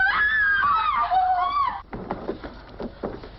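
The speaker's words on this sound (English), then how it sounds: "why do women scream so?" Women in a palace setting scream loudly in high, wavering cries that stop abruptly, followed by clattering commotion and muffled movement in a vintage sitcom scene.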